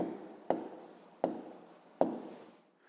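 A pen scratches out the answer to a fifth-grade math problem on paper, three short strokes with taps of the tip, close and alone.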